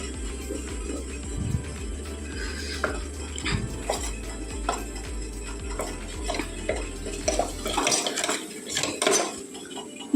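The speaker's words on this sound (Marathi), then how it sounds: "ह्याला मी कंटिन्यू हलवती आहे" A utensil scrapes and clinks in a pan as melting chocolate is stirred continuously for a brownie, with repeated soft metallic scraping strokes close by and no talk over it.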